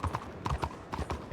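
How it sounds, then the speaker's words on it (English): Horse hooves clip-clop in a video game set in a city modeled on the New Orleans French district, a quick run of near hoofbeats in uneven pairs, with faint talk behind. "I hear a horse."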